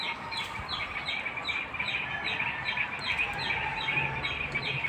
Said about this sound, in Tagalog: Yung mga huni ng ibon guys ang mga naririnig ko.